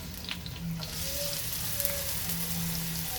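Garlic sizzles in hot coconut oil in a pan, a steady crackling fry with faint pops and clinks throughout, no voices.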